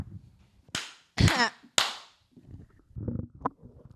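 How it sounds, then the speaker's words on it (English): A few sharp, loud claps ring out one after another in a quiet podcast room, followed by low murmuring voices and small handling sounds. "The clap."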